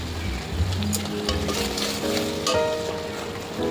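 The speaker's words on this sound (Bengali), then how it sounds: "এবার মশলাগুলো ভালো করে কষে নেব।" Masala spices sizzle and fry steadily in a pan while being stirred for a rajma or chole curry, a continuous close crackle with a few louder bursts and no talking.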